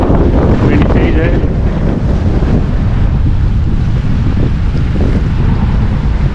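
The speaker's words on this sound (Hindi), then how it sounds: "हवा बहुत चल रही है" Strong sea wind on the Mykonos waterfront in Greece, near ferries and a moored sailboat, roars steadily into the microphone as loud continuous buffeting, with wave and water noise mixed underneath.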